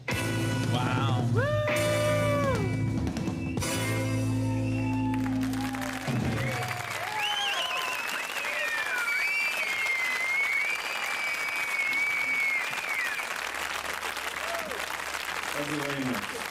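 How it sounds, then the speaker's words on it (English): A large concert crowd at a live show applauds in a dense, continuous roar, while a voice is heard early on and thins out as the clapping carries on. "Wow, that's just clapping."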